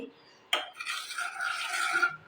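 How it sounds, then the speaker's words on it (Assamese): Semolina roasting in ghee in a pan over a low flame is stirred once, a soft scraping sweep lasting under two seconds, close and quiet, with no talking. "ল' ফ্লেমতে ৰখাম যাতে চুজিখিনি ভালদৰে ভজা যায়।"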